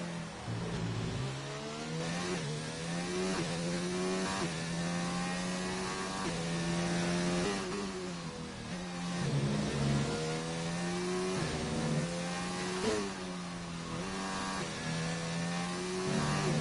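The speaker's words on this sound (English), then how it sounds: "Thompson really working the gearbox on his Renault here" A Renault F2 race car on the Austria circuit, its engine roaring loud and close, with revs climbing and dropping through repeated quick gear shifts and no talk over it.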